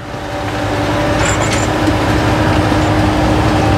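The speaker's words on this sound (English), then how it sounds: "there's an old steam engine driving the" An old steam engine drives a rock crusher at an outdoor steam, gas and horse show, giving a loud, steady mechanical rumble and grinding drone that holds constant throughout.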